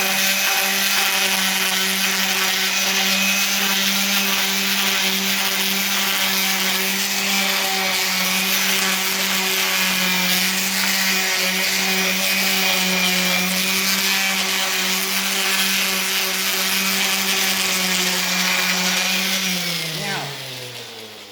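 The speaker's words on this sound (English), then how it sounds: "we're going to take just a regular palm sander, probably like 80 grit on there. We're just going to sand this up a little bit." A regular palm sander fitted with 80 grit paper sands wood in a steady, loud, continuous whine with a droning hum, running alone for about twenty seconds before spinning down at the end.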